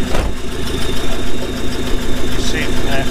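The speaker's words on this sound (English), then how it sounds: "So we'll run the engine up and see if this is spitting out oil." A car engine runs steadily at operating temperature after turbo replacement, a continuous close idle-like drone with a faint higher whine, while an oil leak is being checked.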